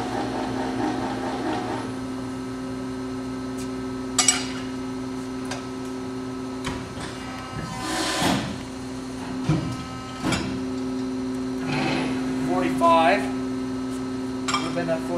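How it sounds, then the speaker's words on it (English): A Krras 6.5-foot, 45-ton press brake calibrates its position with a steady electrical hum, scattered mechanical clicks and ticks, and brief whirring motor movements of the backgauge. "Machine's going to basically calibrate and get the position."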